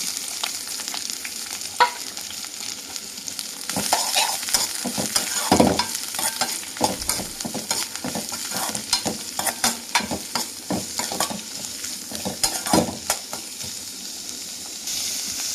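Shredded cabbage stir-fried in a pan for an egg, drumstick-leaf and cabbage poriyal, with a steady sizzle broken by frequent close scraping and tossing strokes throughout.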